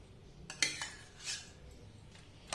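A spoon mashes mango pieces into watermelon sarbath, giving a few light clinks against the bowl and soft squelchy scrapes, fairly quiet and close.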